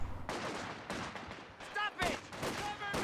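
Machine gun fire in the WWII strategy game Company of Heroes 2 crackles in rapid, uneven bursts with sharp gunshot cracks, a dense battlefield clatter heard at moderate distance.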